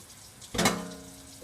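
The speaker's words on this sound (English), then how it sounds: "So I'm going to add a little bit more water," Water poured into a homemade play dough mixture, a short splashing burst that rises suddenly and then trails off quietly.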